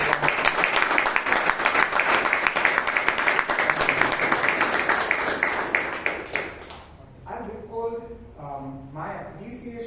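Audience at a Toastmasters club meeting in Bangalore breaks into sustained applause, dense clapping for about six seconds before fading out as people begin talking.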